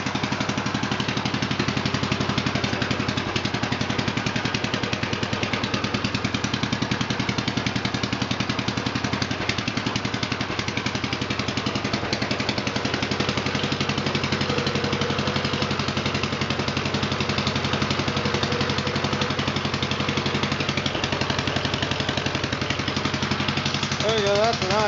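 A 1948 L engine with newly replaced throttle shaft bushings idles with a steady, loud mechanical chugging and rattle that runs unbroken for the whole stretch, with someone talking over it at times.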